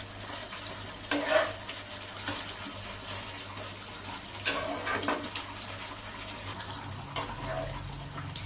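Bata fish simmering in a mustard and poppy seed curry on a gas stove, a steady soft bubbling hiss with a low hum beneath and a few sharper stirring clinks, no talking.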